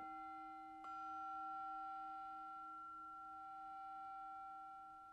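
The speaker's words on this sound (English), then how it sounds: "And these chimes bringing us back to this present moment." Meditation chimes are struck once near the start, then ring on as a steady, sustained bright tone that slowly fades across several seconds in a quiet room.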